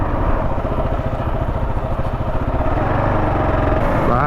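A Kawasaki KLR 650 motorcycle rides along a road near Boulder City and Lake Mead, its single-cylinder engine thrumming loud and steady, with wind noise throughout.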